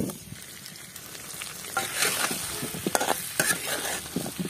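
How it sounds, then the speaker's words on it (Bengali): Potatoes fry in mustard oil with turmeric and salt, a soft steady sizzle broken by repeated stirring scrapes and spatula knocks at close range; no talk. "এখন হরর তেল, হলদির গুঁড়ি আর নুন দিয়া আলুটিরে ভাজমো।"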